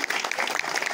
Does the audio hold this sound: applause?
yes